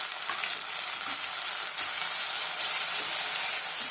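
Two medium tomatoes, finely chopped, fry in oil with a steady, bright hissing sizzle that holds evenly throughout, close and fairly loud.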